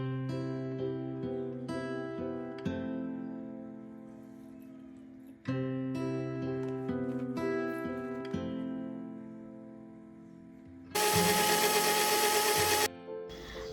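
A blender grinds green chutney with an ice cube, running in short stuttering pulses with brief pauses, followed by a loud two-second full-speed burst of grinding near the end.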